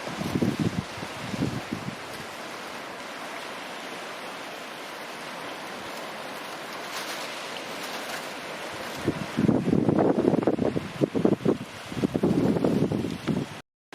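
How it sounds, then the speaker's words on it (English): Calm sea at Karainagar lighthouse on the Jaffna Peninsula gives a soft washing of small waves mixed with wind, quieter through the middle and swelling into louder gusty surges near the end. "You can listen to the sea."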